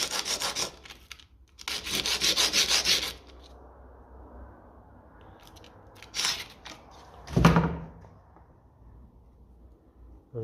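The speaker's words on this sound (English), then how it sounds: "So we'll give him a rub of the sandpaper," Sandpaper rubbing a metal nut from the fuel filter of a 1954 Ferguson TEF 20 tractor, heard as close, rhythmic scratchy strokes in two long bursts, then a couple of short rubs and a thud, with quiet gaps between.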